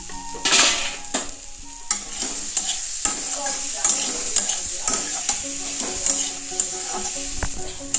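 Potato pieces stirred in a hot pan of frying fish curry, a bright sizzle with repeated spatula scrapes and knocks against the pan, close and fairly loud, no voices.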